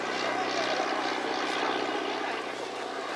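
A propeller aircraft at an air festival flies slowly on its approach to land, its engine giving a steady, loud drone that holds without a break throughout.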